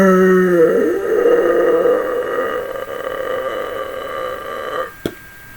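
A long, loud, deep burp rumbles for several seconds, then tapers off and ends with a short sharp click.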